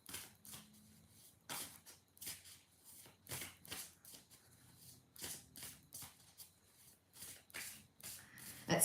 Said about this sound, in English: All right, so I'm going to continue shuffling.